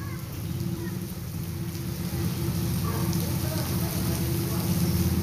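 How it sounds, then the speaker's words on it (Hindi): Heavy rain falling steadily as a dense, constant hiss with a low rumble underneath, moderately close and unbroken throughout. "बारिश तेज हो रही है।"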